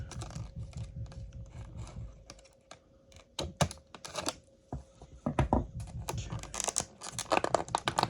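Scissors cut notches in plastic toy packaging with irregular crisp clicks, snips and rasping crinkles, close up and quiet, coming in uneven bursts with short pauses and no talking.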